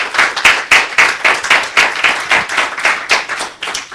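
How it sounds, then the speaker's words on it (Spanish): A church congregation claps together in a steady, rhythmic beat, loud and close, with sharp regular claps filling the hall and no talking. "Denle un aplauso al Señor"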